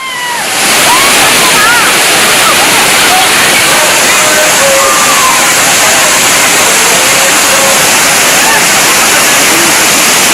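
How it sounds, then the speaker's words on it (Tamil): Tourists bathe at Thirparappu waterfall in Kanyakumari, where a loud, continuous roar of falling water fills the whole scene, steady and dense, with faint voices and shouts barely rising through the rush. "கன்னியாகுமரி மாவட்டம் திருப்பரப்பு அருவியில் குவிந்துள்ள சுற்றுலா பயணிகள் அருவியில் குளித்து மகிழ்கின்றனர்."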